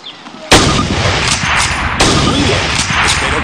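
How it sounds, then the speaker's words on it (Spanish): Two loud, close carbine shots ring out in the Call of Duty video game, about a second and a half apart, each a sharp crack trailing into a long echoing rumble at a target range. "dispare 2 veces a su objetivo usando la mira"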